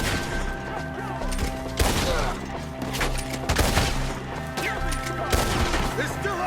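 Heavy gunfire aimed at enemies up in a tree, loud repeated volleys and cracks firing irregularly over a dense battle din, with voices shouting underneath.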